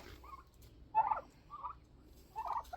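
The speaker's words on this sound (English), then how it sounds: "The birds want to say hi." Turkeys gobbling at a roadside in a small town, several short bursts at moderate distance, with quiet pauses between calls and no talking.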